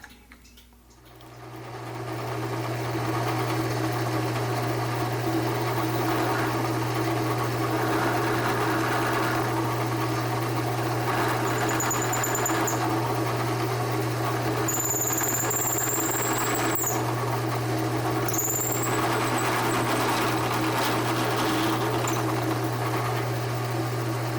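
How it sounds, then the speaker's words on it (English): A drill enlarges a hole in a wood and Alumilite pepper mill, its motor spinning up and then running as a steady loud whine with occasional high squeals as the bit cuts, without talk. "I'm going to have to just drill this hole out just a little bit bigger here."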